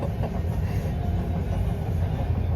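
A passenger train runs along the rails on a journey toward Guruvayur, a loud continuous rumble with faint rhythmic clatter heard from inside the carriage.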